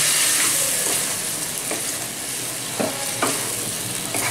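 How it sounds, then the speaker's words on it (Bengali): Chilli and ginger fry with a steady, dense sizzle in a pan for a Bengali-style bhagon fish curry, with several brief scraping stirs cutting through, close and alone. "লঙ্কা আদাতে বেশ ভালো করে ভেজে নিয়েছি"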